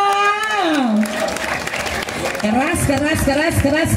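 Audience applause rolls as a steady wash through a Balinese traditional drama performance featuring a Liku character, with a performer's voice gliding in pitch over it.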